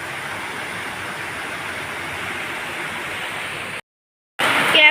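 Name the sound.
rain falling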